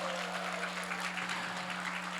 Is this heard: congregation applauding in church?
yes